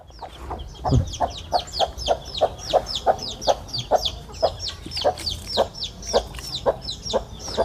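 Young roosters for sale at a market cluck and chirp in a close, rapid, steady rhythm, with one low thump early on.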